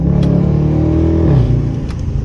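The deep, rumbling 5.7 V8 of a Dodge Charger R/T revs close by, its burbling exhaust note rising and then dropping back, loud and alone.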